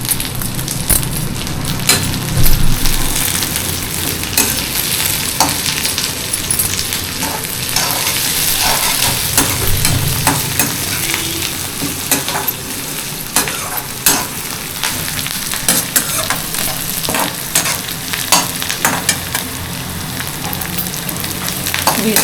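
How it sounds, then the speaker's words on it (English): Ingredients for South Indian upma stirred and fried in a pan until golden brown, with a steady close sizzle and repeated scraping stirs running throughout, alone with no voices. "We stir them till they get golden brown."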